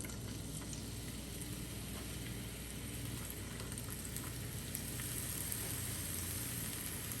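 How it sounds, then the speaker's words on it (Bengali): Chopped onions sizzle in hot oil in the same frying pan just used for frying tuna fish, a steady, dense crackle that runs on evenly at close range with no one speaking. "দিয়ে দিলাম কুচি করে কাটা পেঁয়াজগুলো।"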